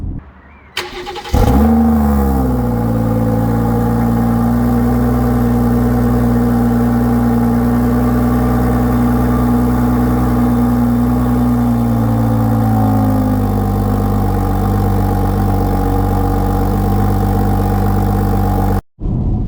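A BMW 440i starts with a sharp burst, then settles into a deep, rumbling M Performance sports exhaust idle that holds steady, shifting tone slightly midway.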